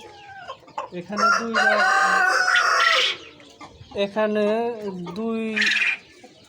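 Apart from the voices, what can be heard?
quails calling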